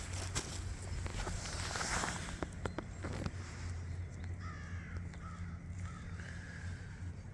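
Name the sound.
crow cawing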